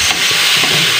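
Lumpia filling mixture for dynamite lumpia is stirred and mixed, a loud, close, continuous rough hiss of scraping and rubbing with no break.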